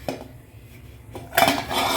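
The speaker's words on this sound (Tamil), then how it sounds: "கரண்டி எடுத்துகிட்டு கிண்டி விட்டேங்க." A ladle clanks and scrapes against a pan while ragi upma is stirred, giving a few close metallic knocks followed by a louder burst of scraping near the end.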